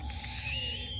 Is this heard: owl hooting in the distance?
yes